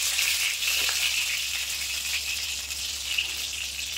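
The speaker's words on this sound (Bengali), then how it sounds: "তো এইভাবে এগুলো কিন্তু ভেজে নেবো মাছের মুড়োগুলো" Fish heads frying in hot oil for a pumpkin curry give a steady, dense sizzle that runs throughout without a break, close and even, with no voices.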